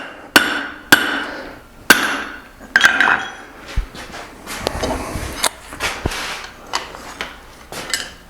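A hammer strikes hot steel while an 8 oz hammer head is forged, ringing with sharp metallic clanks. Four loud blows come in steady rhythm, then lighter, scattered taps follow, close up with no voices.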